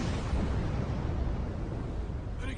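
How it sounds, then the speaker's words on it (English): A deep, rumbling explosion from an anime episode fills the clip, a dense, steady roar that stays loud throughout and trails off slightly at the end. "An explosion!"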